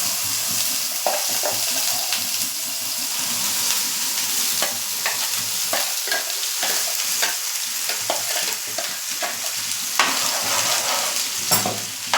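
Matar paneer gravy cooking in a pan over a low gas flame, giving a steady soft sizzle with stirring scrapes throughout, close and continuous.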